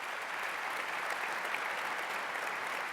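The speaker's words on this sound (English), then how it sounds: "please a round of applause for these great panelists." An audience at a 2012 SSAC basketball analytics conference panel applauds the panelists, a dense, even wash of clapping that holds steady for about three seconds with no talking.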